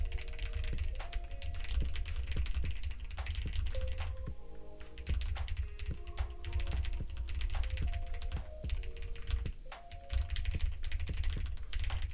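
Computer keyboard typed on rapidly during an online typing race game, a dense, continuous stream of close crisp key clicks with brief pauses, no voices present.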